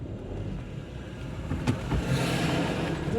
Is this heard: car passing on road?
yes